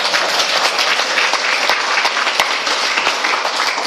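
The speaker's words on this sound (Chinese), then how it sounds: "要不要鼓掌？" Loud, steady audience applause at a lecture, a dense wash of many hands clapping that continues without a break for several seconds.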